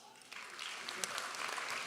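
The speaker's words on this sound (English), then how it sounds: "Let's clap again." Graduation audience applauding at a university medicine and health sciences ceremony, a soft steady patter of many hands clapping that builds slightly over a couple of seconds, heard from a distance.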